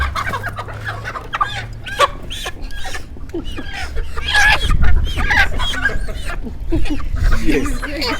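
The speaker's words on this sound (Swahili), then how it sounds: "Hizi kuku watu wangu nawaambia." Kienyeji chickens at a Kenyan poultry farm, loud and close, clucking steadily with occasional crowing throughout, while people talk over them.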